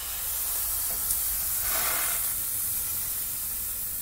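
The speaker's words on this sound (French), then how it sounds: "Je vais mettre une louche de pâte maintenant." Crêpe batter, ladled into a hot pan coated with olive oil on an off-grid tiny-house stove, gives a steady, fairly loud sizzling hiss. The hiss continues alone for several seconds with a brief swell partway through.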